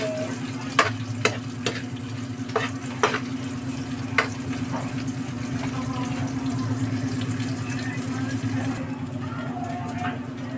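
Garlic, onion, kikiam and meat fry together in a pan for pancit, with a steady close sizzle broken by sharp clacks of a utensil stirring. A voice speaks over the cooking.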